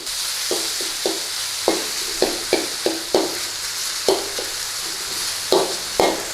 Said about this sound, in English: So try and get that little bit of a singe on the beef if you can.